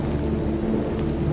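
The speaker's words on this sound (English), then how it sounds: "this constant wind and light rain makes cycling a bit hard" Constant wind with light rain outdoors on an Icelandic road, a steady low buffeting roar with a soft hiss on top, close and unbroken.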